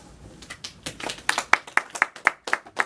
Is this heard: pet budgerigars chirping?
no